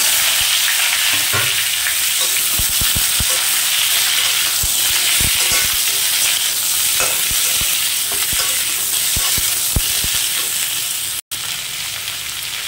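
Cucumber curry frying in a pan with radhuni seeds in the tempering, giving a steady loud sizzle and hiss, with intermittent sharp scrapes and clinks of stirring throughout.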